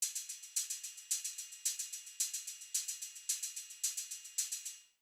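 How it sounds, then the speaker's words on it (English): A continuous programmed hi-hat pattern from a remake, crisp and bright, ticking in steady groups with varying velocity accents, alone and clean. "so the first hat would sound like this."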